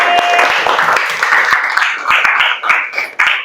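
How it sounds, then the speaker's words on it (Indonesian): Classroom applause for students who just finished their presentations: a group clapping fairly loudly and steadily, with individual claps standing out and the sound swelling again near the end. "tepuk tangan untuk yang sudah presentasi hari ini"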